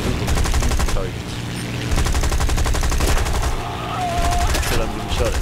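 Rapid bursts of gunfire in War Thunder, a loud, sustained fusillade of repeated shots with machine-gun-like rattling, continuing through most of the stretch with only brief dips.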